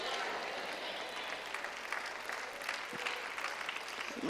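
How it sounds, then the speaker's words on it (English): A church congregation applauds during a sermon, the clapping steady and moderately loud throughout, like a small crowd indoors. "Let me thank all five of y'all that y'all keep clapping."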